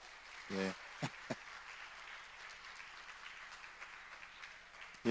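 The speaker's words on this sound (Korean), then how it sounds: "박수로 환영하겠습니다" A church congregation at a Sunday service gives a short burst of applause to welcome a first-time visitor, a university engineering student; the clapping is brief and moderately distant, followed by a few isolated claps in a quiet room.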